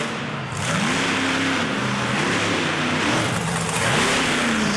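Bigfoot, a monster truck driven by Larry Swim, revs its big engine at an arena event in Saginaw, Michigan, a loud steady roar with pitch swells as it rolls out.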